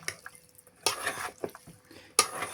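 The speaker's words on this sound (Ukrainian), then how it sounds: "І тепер це все добре перемішуємо" Herring and onion being stirred together with refined, unscented oil in a salad bowl, giving a few brief wet scraping and clinking bursts of utensil against dish, close by with quiet gaps between.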